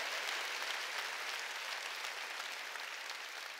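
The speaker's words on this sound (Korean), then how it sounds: "깨달은 사람만 박수치라고." A church congregation at a Sunday service claps together in a steady, even wash of many hands, sustained and moderately distant throughout.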